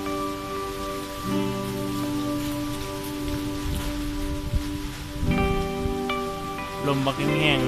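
Steady rain falls during a storm in Laos, a continuous close patter on surfaces with gusty wind, while a faint tonal hum runs underneath throughout.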